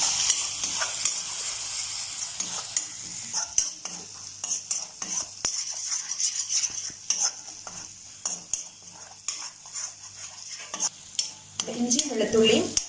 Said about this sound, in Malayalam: പച്ചമണം മാറുന്നവരെ നല്ലപോലെ എണ്ണയിൽ കിടന്ന് ഒന്ന് വഴറ്റട്ടെ.